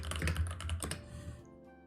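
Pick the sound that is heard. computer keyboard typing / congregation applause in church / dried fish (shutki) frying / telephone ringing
computer keyboard typing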